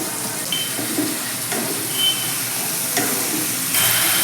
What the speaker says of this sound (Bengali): মশলাটা অনেকটাই কষা হয়ে গেছে তেল ছাড়তে শুরু করে দিয়েছে